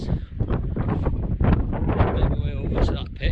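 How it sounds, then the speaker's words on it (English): Strong gale-force wind buffets the microphone on open high moorland at Kinder Scout, a loud continuous roar with gusting bursts, while someone talks through it. "It's obviously quite windy up here, but it's blowing a gale."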